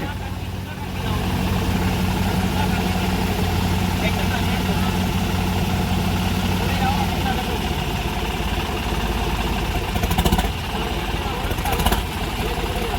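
A tractor engine runs steadily at a low idle-like throb in a muddy field where a boring machine is stuck, continuous and close throughout, with a brief louder surge near the end.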